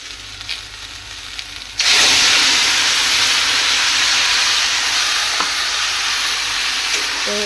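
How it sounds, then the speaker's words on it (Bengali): Water poured into frying spice paste sets off a sudden loud hissing sizzle that swells abruptly and holds steady, after a quieter stretch of soft frying with light clinks. "এর মধ্যে আমি দিয়ে দেবো সামান্য পরিমাণ জল, যাতে মশলাটা পুড়ে না যায়"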